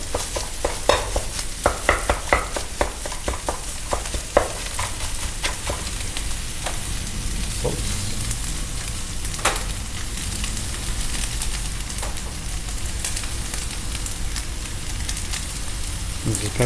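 Lobster fried rice frying on a hot restaurant griddle, a dense, continuous loud sizzle with scattered scraping and clicking of utensils, steady for the whole stretch.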